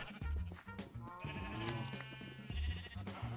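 Sheep bleat in the Minecraft video game, several wavering cries running close together and loud over a soft game background.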